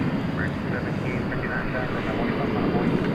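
A steady, loud broadband roar of an Embraer 170 regional jet taking off at Dallas Fort Worth airport at night, continuous and unchanging across the whole stretch.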